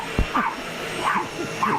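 A dog gives short yips and whimpering barks, three or four brief bursts close by, reacting to a household vacuum cleaner.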